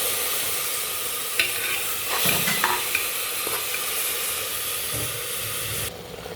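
Sliced onions and ground spice paste sizzle and hiss steadily in a hot pan for vegetable biryani, with a few scraping stirs of a spoon cutting through the continuous frying.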